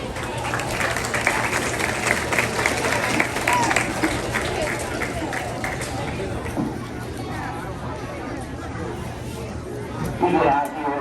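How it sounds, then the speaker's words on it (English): Steady applause from a sizable crowd at a county fair pig show, mixed with chatter and cheering, continuing at an even level throughout, with a few voices toward the end. "Give a round of applause for your queen."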